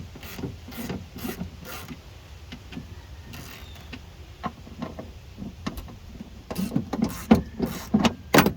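A hand ratchet clicks in short bursts while loosening bolts on the window motor inside a Chevy Impala door, close and fairly quiet, with rubbing and clinking of metal between the bursts and a busier flurry near the end.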